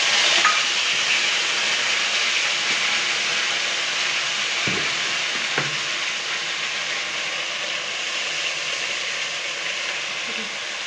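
A paste of chili, ginger and cumin fries in a pan with a steady bright sizzle and hiss, close and continuous. A couple of faint stirring knocks sound partway through.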